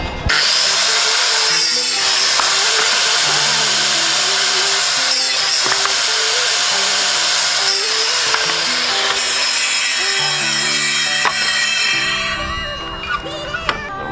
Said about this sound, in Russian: Ну что, пришло время опробовать нашу пилу в действии.